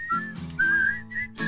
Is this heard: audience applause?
no